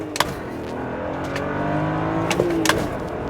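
BMW 335i with a manual transmission turning around, its engine rising and revving under load with steady harmonic drone, loud and close, a couple of brief clicks or chirps in between, no one talking.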